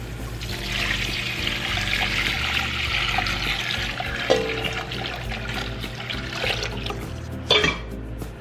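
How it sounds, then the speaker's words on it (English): Broth pours into a pot of roasted aromatics, including garlic cloves, while making pho: a loud, steady gush and splash of liquid lasting the whole stretch, ending with a brief clatter. "we're gonna add our broth to this"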